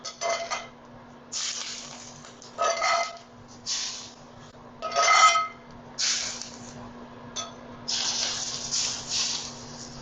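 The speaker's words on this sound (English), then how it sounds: "That's cooking the ginger and green onion." Ginger and green onion sizzle in a hot pan with bursts of hissing spatter that flare and fade, over a steady kitchen hum, close and moderately loud.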